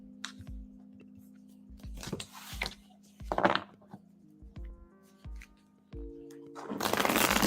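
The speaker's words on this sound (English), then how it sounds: "that means it's shuffled enough for your question, Anna." Tarot cards are riffled and shuffled in several quick, crisp bursts of flicking and slapping over a low steady hum, with gaps between, and a longer loud shuffle at the end.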